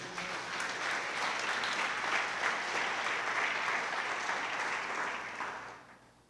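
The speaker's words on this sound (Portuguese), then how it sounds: "Só quem recebe dá um aplauso aí." Applause from a congregation at a Sunday church celebration swells into steady, dense clapping for several seconds, then fades out near the end.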